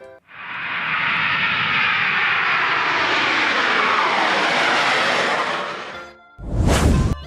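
An aeroplane flies past with a loud, sustained engine roar that swells and holds for several seconds, then breaks off into a short, harsh burst of noise at the end.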